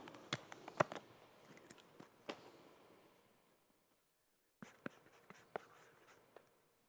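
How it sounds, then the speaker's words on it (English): Pen scratching out a signature across the face of a playing card, close and quiet, in two bursts of quick strokes separated by a short pause. "go ahead and sign your name across the face of the card"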